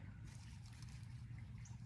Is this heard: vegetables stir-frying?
no